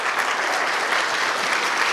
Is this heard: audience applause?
yes